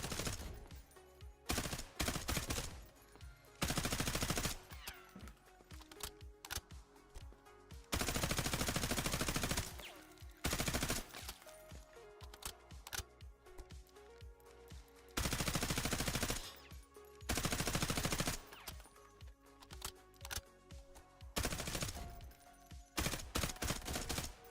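Gunfire in the shooter game Delta Force, with repeated long bursts of loud automatic fire and rapid single shots, dense and close, broken by short pauses over about twenty-five seconds.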